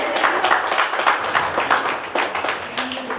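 Loud applause from a crowd at a community gathering honouring a teacher: dense, sustained clapping of many hands, close and even, with only slight swells.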